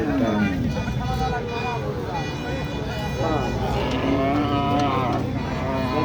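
Cows and calves low repeatedly amid a busy crowd at a cattle market, with people talking over the mooing and general market babble.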